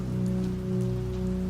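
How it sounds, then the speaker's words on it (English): Rain running down window glass, a dense steady patter with a low constant hum underneath, even and unbroken, close and moderately loud with no voices. "Rain slid down the glass in thick, slow lines."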